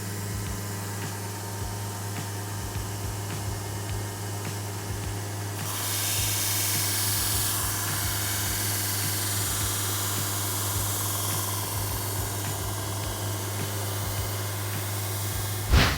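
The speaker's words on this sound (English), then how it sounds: "as I was grinding this blade is that these grinders have a plate that is straight" Belt grinder shaping a knife blade made from an old file: a steady, loud grinding hiss with a constant motor hum, growing rougher and brighter partway through as the blade presses harder against the belt.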